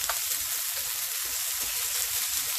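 Onions and peppers sizzle steadily in a pan with constant bright frying crackle and faint stirring thumps underneath, close and unbroken, no voices.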